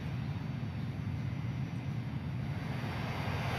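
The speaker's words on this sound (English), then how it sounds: "Oof, I'm hearing some very big, big plane here." A large airliner, a rusty Boeing 737 in the video game Transport Fever 2, drones steadily as a low, broad engine rumble with hiss, heard alone without talk and holding an even loudness throughout.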